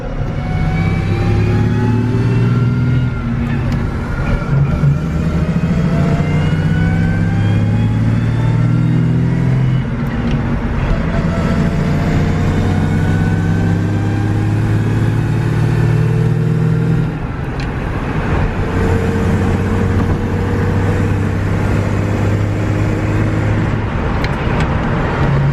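Foxbody Mustang with a newly fitted T5 manual transmission driving off, engine revving and climbing through several gear changes with a steady rumble and road noise throughout.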